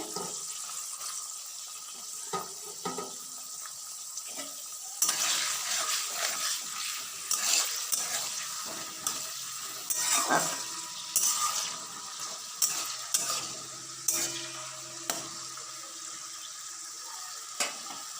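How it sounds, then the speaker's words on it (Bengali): Green beans and capsicum frying in oil mixed with ghee, a soft sizzle that swells after a few seconds with intermittent pops and clinks of stirring, no talk. "এবার আমি বিনস আর ক্যাপসিকাম একসঙ্গে দিয়ে দেবো তেলে"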